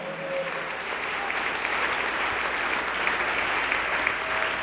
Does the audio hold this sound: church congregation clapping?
yes